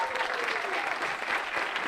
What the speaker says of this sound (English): And the applause is deafening here in Osijek.